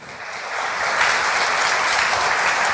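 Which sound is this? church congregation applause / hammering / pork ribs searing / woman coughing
church congregation applause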